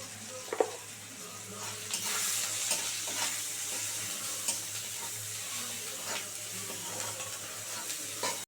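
Vegetables with salt and turmeric fry quietly in a pan, giving a soft continuous sizzle broken by occasional stirring scrapes, with no talking.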